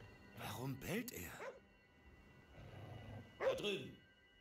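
A dog barks in the video game Ghostwire: Tokyo: two clusters of short, harmonic barks, one early and one near the end, close and fairly loud over quiet game ambience.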